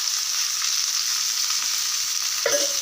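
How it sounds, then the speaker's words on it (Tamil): Fish frying in hot oil for a village-style fish fry, giving off a loud, even hiss that holds throughout, with one short clink near the end. "எண்ணெய் ஃபஸ்ட்டே ஊற்றி சூடு பண்ணி வச்சு நம்ம மீனை பொரித்து எடுத்துக்கலாம்."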